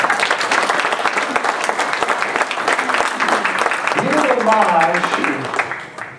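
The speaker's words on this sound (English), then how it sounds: "Give Peter a hand, he ain't here to clap for him." An audience at an awards ceremony applauds loudly and steadily, a thick wash of many hands clapping, while a voice speaks over it near the end.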